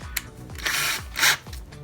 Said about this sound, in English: Use a short drill bit so you don't hit any of the filter inside of the transmission.